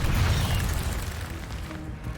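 A fire spell blast from the Hogwarts Legacy video game, the Incendio charm, hits as a loud, booming burst with a rushing roar that eases slightly over about two seconds.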